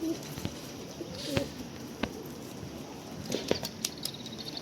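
Domestic coop pigeons coo softly in short bursts, with occasional faint flutters and taps around them; no voices.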